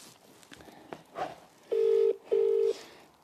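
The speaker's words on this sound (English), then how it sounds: "That's your phone." Two steady tones of a phone call ringing out sound loud and close, each about half a second, with a brief gap between, following soft room noise and a few quiet knocks.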